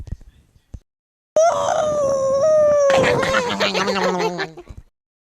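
A voice imitates a dog's drawn-out howl, rising and wavering for a few seconds before breaking into rougher, yelping cries.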